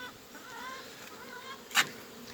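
Russian honey bees buzz around a hive, a soft, steady drone with a single louder bee passing close by near the end, no talking.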